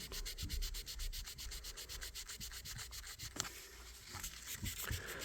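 Sandpaper rubs back and forth across the top of a vintage knife blade in quick, even strokes, a close, steady rhythmic scraping with a few sharper scratches near the end.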